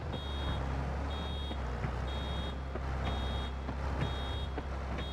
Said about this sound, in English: We've already got the beeping.